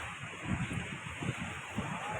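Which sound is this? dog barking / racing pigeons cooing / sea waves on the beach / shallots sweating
sea waves on the beach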